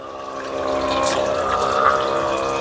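A battery-powered portable sprayer pump runs while working with water, giving a steady whirring hum with a watery, hissing flow that holds at an even level throughout.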